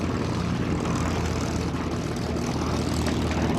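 A TBM Avenger torpedo bomber warbird flies past at the Dover AFB air show, its piston propeller engine a loud sustained throbbing roar with deep low rumble, steady throughout.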